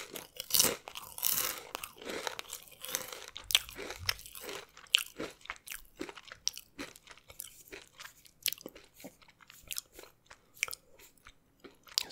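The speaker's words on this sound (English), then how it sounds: "All right, let's take a bite." A spicy chip is bitten and chewed close up, with a loud crisp crunch followed by a long run of rapid, irregular crunching and mastication sounds, and no talking.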